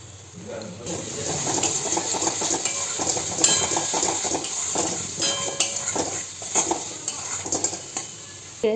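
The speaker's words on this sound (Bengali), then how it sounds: "এরপর মশলাটা আমি কষে নেবো আলুটা কষার জন্য" Potatoes stir-fried in a pan with turmeric, cumin, coriander and biryani masala for aloo biryani: a continuous sizzle under busy spatula scraping and metallic clatter against the pot, close and fairly loud, without speech.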